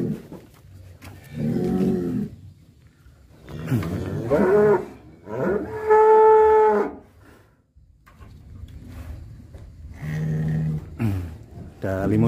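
Limousin cross cattle moo in several long, loud, deep calls at close range, with a pen's background noise around them and no speech over the calls.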